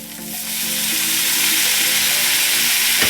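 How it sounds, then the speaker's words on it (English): A splash of water hits a hot frying pan holding smoked paprika, swelling quickly into a loud, steady hiss of sizzling and steam close up. "Then I'll give a little splash of water."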